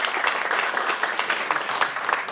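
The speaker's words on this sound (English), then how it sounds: "A round of applause for Chad." Steady round of applause from a room of people, dense clapping at a moderate level with no voices standing out.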